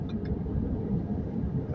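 Cars idle and creep in a traffic jam in Saudi Arabia near date palm fields, giving a steady low engine rumble close by, with no talking.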